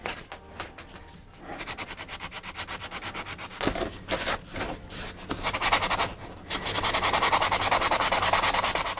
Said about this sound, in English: I'm gonna go ahead and sand that out as well.